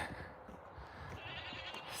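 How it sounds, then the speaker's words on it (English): Goats on a farm bleating and calling continuously at close range, with a steady, noisy din of overlapping cries and no speech. "the goats are yelling"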